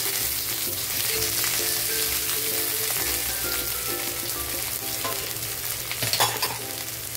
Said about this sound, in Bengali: কড়াইয়ে তেলও দিয়ে দিয়েছি, তেল আমার গরম হয়ে গেছে। তখন আমি করেলাটা দিয়ে দেবো।